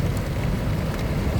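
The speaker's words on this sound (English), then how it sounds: "Cyclone is like, I don't know how to explain, but it's heavy rain that comes" Heavy cyclone rain falls in Maputo, Mozambique, as a loud, dense, steady roar of downpour on surfaces with a low rumbling undertone, with no voices over it.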